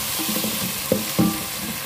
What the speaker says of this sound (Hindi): तो अब डाल देंगे 2 टेबलस्पून भरकर अदरक लहसुन का पेस्ट।